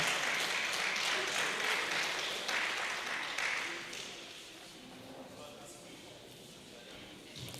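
An audience at a teachers' award event applauds an awardee preschool teacher, a steady wash of clapping for about four seconds that then dies down to room murmur and faint talk.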